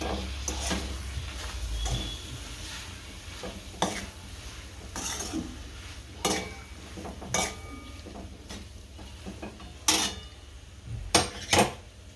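A spoon stirs aloo matar paratha filling with lemon juice in a bowl, producing scattered clinks and scrapes at irregular intervals over a low steady background hum, close and fairly quiet.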